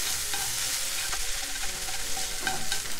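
Eggs and tofu are mixed together in a frying pan for a Japanese home-style side dish, with steady sizzling and occasional scraping strokes of a utensil, close and without talk.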